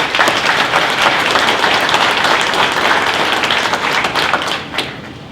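An audience at a mayor's State of the City address in Madison, Indiana, gives steady, dense applause to the Fairfield venue team. The clapping holds even and loud for several seconds, then thins toward the end.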